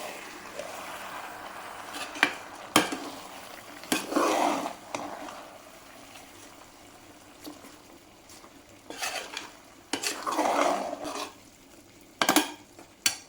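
Intermittent scraping and clinking of a spoon stirring rice for chicken biryani in a metal pot, a few bursts of activity separated by quieter pauses.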